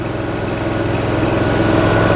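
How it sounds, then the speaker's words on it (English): A John Deere Z700 series zero turn mower engine runs at a steady idle with a low, even rumble that rises slightly toward the end, heard up close and alone. "Now you can turn the key until the mower starts."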